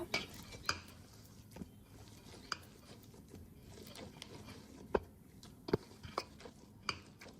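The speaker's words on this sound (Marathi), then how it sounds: "थोडे तेल घेऊन पुन्हा हे पीठ आपण एकजीव करून घेऊया" Bajra thalipeeth dough being mixed and kneaded with a little oil in a bowl: faint, soft shuffling under a few light, scattered clicks and taps, heard quietly and alone.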